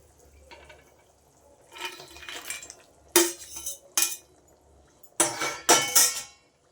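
A metal lid and utensils clatter on a pot of rohu fish curry with potato, brinjal and bori, giving several sharp clinks and clanks between quieter kitchen sounds, no talk.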